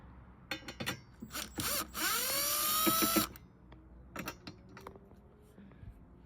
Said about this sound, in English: We're going to take the screws off using the drill here.